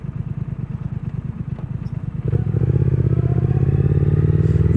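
Triumph Speed Twin 1200 motorcycle, close by: an idling twin-cylinder engine throbs rhythmically, then the revs rise to a louder, faster, steady drone.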